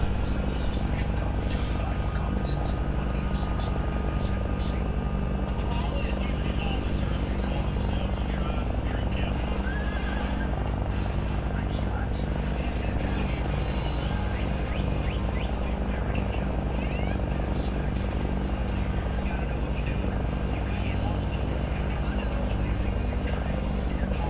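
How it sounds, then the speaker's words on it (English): A steady simulated aircraft engine drone in X-Plane 11 hums continuously as the engine spools up, with a voice talking over it at times. "And engine 1 is spooling up nicely."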